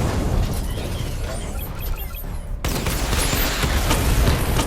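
Missile barrage from Batman: Arkham Knight firing and bursting in a loud, continuous volley of pops and booms that shifts in character partway through, with no talking.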